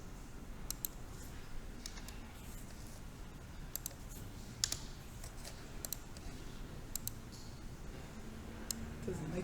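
Clicky keys typed on a computer keyboard during a live stream, scattered sharp taps in irregular bursts throughout, fairly faint over a low background rumble.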